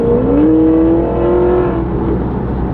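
A car engine revs up close, its pitch rising sharply and then holding at a steady high drone before easing off slightly.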